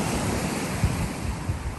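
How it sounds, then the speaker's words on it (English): Ocean surf rolls continuously against the shore in a brief burst of wave noise, with gusting wind buffeting the microphone and a couple of soft low thumps. "these waves were very big"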